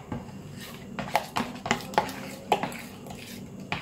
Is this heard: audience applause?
no